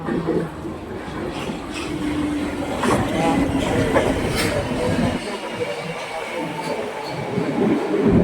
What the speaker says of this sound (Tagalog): My train is coming.